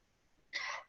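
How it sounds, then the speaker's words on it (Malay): A single short cough, close and fairly loud, rising out of a quiet room during an online lecture. "Sorry, batuk sikit."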